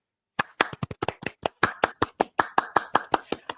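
One person claps by hand roughly a dozen times in quick, slightly uneven succession, close and crisp, with a brief pause partway before the claps resume.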